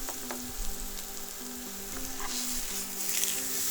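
Coconut oil sizzling and frying in a pan, a close, continuous crackle with scattered pops and occasional stirring scrapes, no talking.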